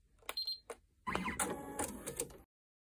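Embroidery machine stitching small pendant details on a sweater: a few sparse mechanical ticks and whirs, then a dense, busy burst of rapid stitching that stops abruptly, close and fairly quiet.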